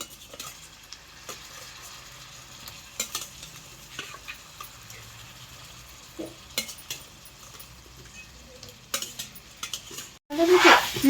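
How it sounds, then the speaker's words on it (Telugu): Chicken pieces going into chilli masala frying in a pot for fry piece chicken biryani, with faint sizzling under scattered stirring scrapes and clinks of a utensil against the pot, ending in a louder burst of sizzle and clatter. "ఇప్పుడు చికెన్ కూడా వేసేస్తున్నాను"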